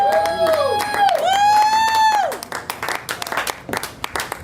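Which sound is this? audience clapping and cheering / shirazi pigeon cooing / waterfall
audience clapping and cheering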